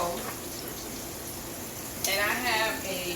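Pork chops fry in grease in a pan under a screen guard, giving a steady close sizzle that grows louder and brighter partway through. The chops are being cooked for BBQ ranch pork chops.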